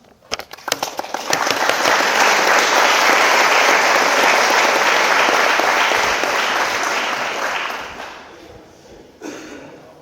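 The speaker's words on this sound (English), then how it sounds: "I don't know anybody who's been here about 2 weeks and gotten that much applause." Sustained applause from an office audience at a company core values celebration as award winners come up, building quickly to a steady loud roar of clapping before tapering off, with a brief burst of voices near the end.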